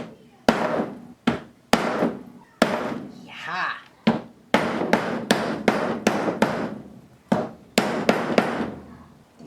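A hammer smashes glass jars into pieces with a series of sharp, loud strikes, some spaced apart and others in quick bursts. There is one brief spoken word and a short crunching scrape between blows.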